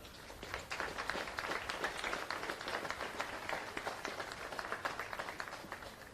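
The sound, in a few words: crowd applause for Castletown Geoghegan hurling team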